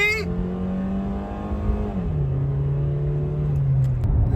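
A junkyard-rescued $700 Honda Civic accelerates on the road, its engine droning steadily from inside the cabin and dropping in pitch at a gear change halfway through.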